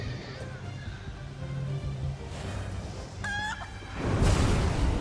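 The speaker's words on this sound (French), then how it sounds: "Il y a des poules ici." Chickens clucking in a video game, a short series of clucks rising briefly over a steady background of game ambience and low rumble, fairly close.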